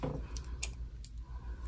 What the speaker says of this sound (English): So I'm going to have to use scissors.